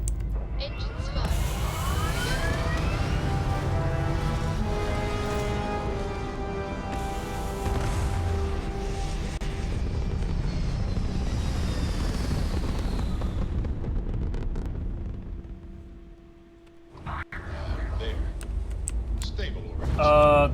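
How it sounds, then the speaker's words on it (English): Spaceship engines firing in the video game Starfield, a loud sustained roar with rising tonal whines that drops to a brief near-silence before the rumble returns, with a voice talking over it. "Engines fire."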